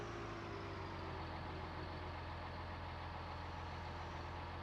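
Engine of a Case IH Maxxum tractor idling in a farming game, a steady low rumble with a constant hum and no variation in pace, heard alone without talk.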